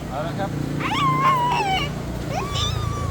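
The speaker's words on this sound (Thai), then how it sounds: "อุ้ยนั่นมันแมว" A cat meows several times in drawn-out, rising and falling cries, close by, with a voice and background noise around it.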